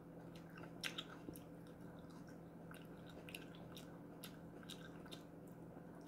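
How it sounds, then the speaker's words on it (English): Grapes in a sugar coating with a little apple juice at the bottom of the container are crunched. The bites are close and quiet, with several sharp, wet, squishy crunches spread over a few seconds and no talking. "I get surprised on how loud they crunch."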